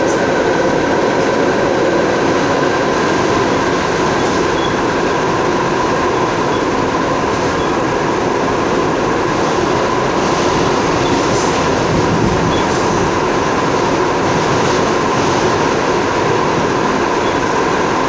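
Loud, continuous rumble and rattle of a New York 5 subway train running close by without stopping, with steady roar and faint wheel noise throughout.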